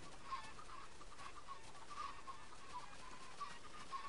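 Chickens in the Minecraft video game cluck in short, repeated blips at a moderate distance, scattered irregularly over a faint steady background hum, with no voices.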